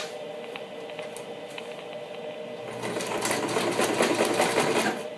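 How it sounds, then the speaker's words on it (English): A sewing machine runs steadily, stitching elastic down along a serged edge of cloth, its needle whirring in a continuous mechanical hum that grows louder and busier partway through, close and alone. "we're going to stitch down the elastic to hold the elastic in place"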